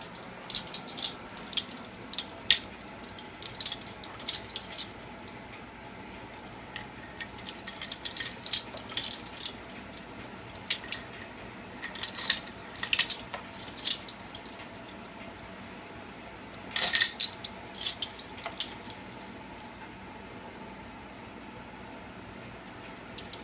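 Frozen jalapenos are scooped with a metal utensil, giving close, intermittent clinks and scrapes in irregular bursts over a quiet background.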